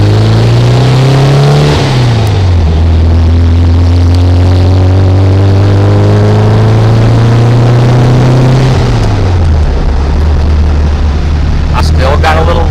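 A car engine converted from dual to single IDF Weber carburetors, with a slight lean spot in the progression ports, runs loud and close, not yet warmed up, its pitch rising as it revs and then dropping back to a steady idle.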